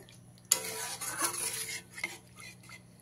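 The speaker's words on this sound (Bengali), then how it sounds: "জলটা দিয়ে খুব ভালো করে মিশিয়ে দিতে হবে।" A metal spoon clanks once against a pan, then scrapes and stirs as water is mixed into potol korma gravy, with a soft sizzle and a few lighter stirring taps trailing off, close and quiet.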